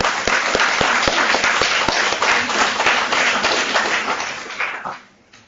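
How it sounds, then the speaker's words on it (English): An audience applauds for police officers at a university talk on unmanned aerial systems, with dense steady clapping, a few sharper individual claps standing out, until it dies away abruptly near the end. "A big round of applause for our officers."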